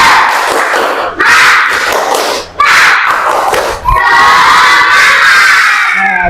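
Schoolchildren in a classroom chant and clap together in the 'tepuk semangat' routine, a loud group of young voices shouting rhythmic phrases with bursts of clapping, brief pauses between sections, and no separate talk over it.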